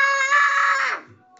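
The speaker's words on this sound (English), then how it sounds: "Kuya, stop screaming." A child screaming indoors: one loud, sustained, high-pitched scream that holds for most of a second, then breaks off and trails away, close to the microphone.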